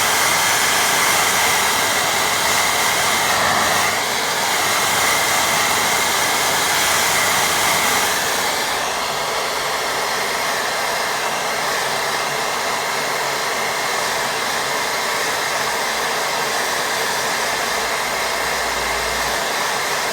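A hair dryer blowing on a watercolour painting, a loud, steady whooshing roar that runs continuously with only slight shifts in tone as the airflow moves.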